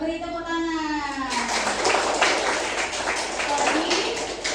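A classroom bursts into applause, many hands clapping together at a steady, close level for a few seconds, rising right after a voice finishes speaking.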